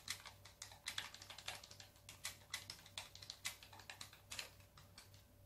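Close, fairly quiet keystrokes as a password is typed on a keyboard, coming in quick irregular bursts of clicks with short pauses and no talking.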